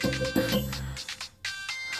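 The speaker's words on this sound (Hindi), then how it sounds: "इसका फोन क्यों आ रहा है?" A phone ringtone plays, a bright repeating melody that rings loudly nearby, with a short pause before it starts again.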